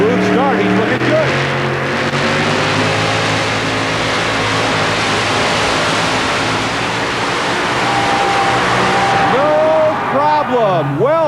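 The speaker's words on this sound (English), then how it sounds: "Nice, smooth, picture-perfect pull for Tommy Holman out of Wayne, Ohio." A 4WD pulling truck's engine roars loud and continuously during a truck pull at Tampa Stadium in 1991, its pitch rising and sweeping near the end, while an announcer's voice talks over it.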